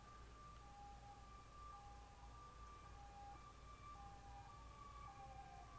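Faint wailing sirens drift in the distance, their tones rising and falling steadily over a low constant hum, with no one speaking.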